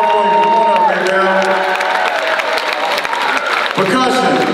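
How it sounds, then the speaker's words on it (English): Long applause and cheering from a band camp audience at a marching band performance, a dense steady roar of claps with whoops and voices mixed in, sustained loud throughout. "That's a pretty long clap, y'all."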